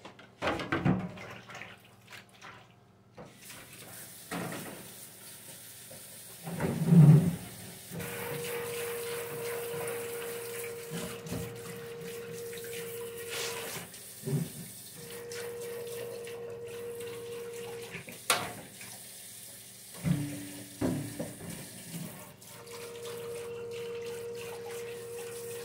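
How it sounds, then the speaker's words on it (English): A hot-water tap runs in a sink while a fridge part is rinsed, the flow starting and stopping several times with a steady hiss and irregular splashing and clatter. "I'm going to rinse this off in hot water real quick."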